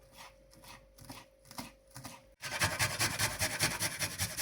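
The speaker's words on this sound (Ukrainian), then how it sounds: "Нарізаю кріп" Rapid, steady knife chopping of dill on a cutting board, quieter at first and then louder and faster, with no voices.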